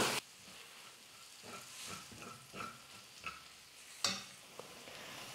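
Spice masala stirring in a hot pan for potato poriyal, a soft steady sizzle broken by a few scraping stirs and one sharper clatter near the end, close and fairly quiet with no talking.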